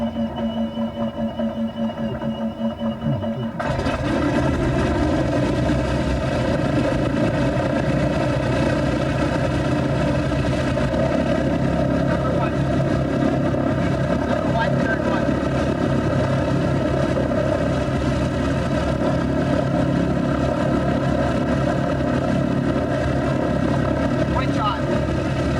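Number 2 radial engine of a B-17 bomber turning over and catching, then settling into a loud, steady, droning propeller roar that runs continuously, with crew voices calling out over it.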